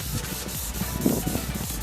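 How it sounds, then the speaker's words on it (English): A car headlight lens is hand-sanded with wet sandpaper, giving a steady, close scratchy rubbing with a slight rhythmic back-and-forth pulse, alone and without talk. "And now we're going to start sanding it."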